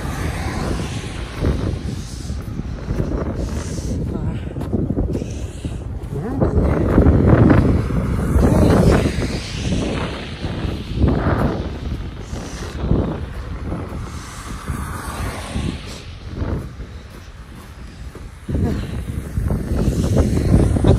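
Strong winter wind buffets the microphone in rough, roaring gusts on a snowy Winnipeg sidewalk, with a few voices speaking now and then underneath.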